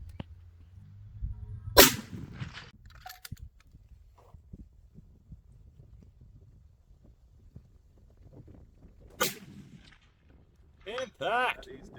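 A single sharp rifle gunshot fired while hunting sambar, from a light rifle fitted with a JST muzzle brake, loud and close against quiet outdoor ambience, with a second crack and voices later.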